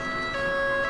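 A police car siren in the LCPDFR video game, from an unmarked Met Police Volvo V40, wails loud and steady in a short, continuous stretch with no talk.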